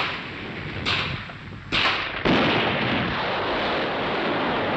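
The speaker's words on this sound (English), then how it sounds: "The Mobat crew swing their gun into position, load, and sight on the pillbox." Mobat anti-tank gun firing on a concrete pillbox during a 1961 military demonstration, with sharp loud reports near 0.9, 1.7 and 2.3 seconds over a continuous rumbling, noisy outdoor background.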